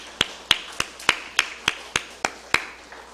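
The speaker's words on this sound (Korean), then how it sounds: "박수 한번 해주세요" Clapping from a church congregation: about ten crisp, evenly spaced claps in a slow steady rhythm, sharp and close, each followed by a short ring of the room.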